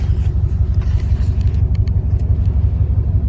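A Lexus ISF rumbles while driving, a deep, throbbing engine drone with steady pulsing close by, loud and unbroken, with no talk over it.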